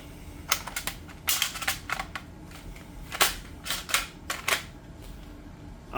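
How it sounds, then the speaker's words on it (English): An airsoft gun converted from a Nerf shell fires BBs weakly, giving a series of sharp snapping clicks at irregular intervals, close and fairly loud with no talking. "it doesn't shoot very hard, but it will shoot"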